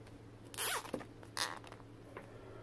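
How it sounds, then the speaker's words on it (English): A plastic zip tie is pulled tight around a coiled extension cord, giving two quick ratcheting zips close by against a quiet background. "you zip tie it."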